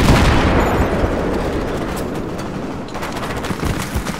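Dense, loud gunfire from many weapons in the military shooter Battlefield 3 keeps up without pause, a continuous fusillade with sharper individual cracks throughout.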